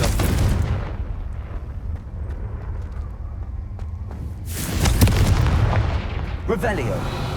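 The Confringo fire spell blasts in the Hogwarts Legacy video game. A loud, booming explosion opens the clip, then a second heavy, rumbling blast rolls in midway and carries through to the end.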